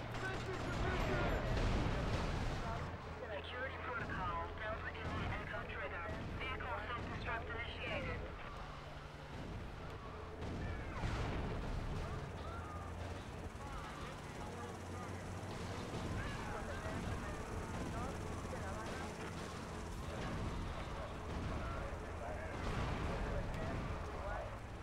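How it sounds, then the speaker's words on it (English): Gunfire and explosive blasts in Grand Theft Auto: Vice City on PS2 roll on throughout, dense and continuous, mixed with game dialogue and a speaking voice over the top. "We're taking enemy fire!"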